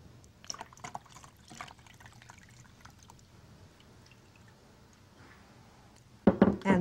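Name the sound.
rinsing tomato seeds with water in a strainer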